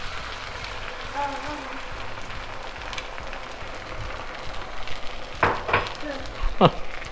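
Sauce sizzles in a hot pan, a soft continuous crackle with a few sharper scraping stirs near the end, while someone talks in between.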